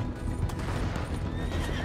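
Horse from the game Red Dead Redemption 2 gives a loud, close whinny over steady clip-clopping hooves in a short burst with no talk.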